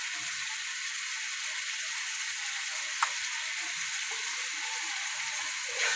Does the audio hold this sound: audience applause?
no